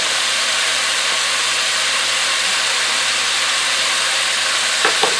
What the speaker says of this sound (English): I'm going to go ahead now and add 1 tablespoon of garlic